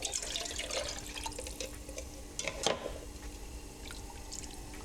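Water sloshing and swishing inside a spaghetti sauce jar being rinsed out, a splashy burst of liquid with a louder surge near the middle, close by and with no talking.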